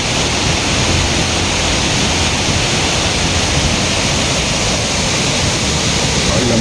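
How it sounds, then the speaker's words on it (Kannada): A monsoon waterfall at Charmadi Ghat gives a constant broad rushing roar, loud and unbroken from start to finish, with no clear voices above it. "ಇಲ್ಲೊಂದು ಫಾಲ್ಸ್ ಕಾಣಿಸ್ತಾ ಇರ್ಬೋದು"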